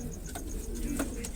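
Old-breed pigeons kept by a pigeon fancier in Okhla coo softly in a short low burble, with faint ticking in the background.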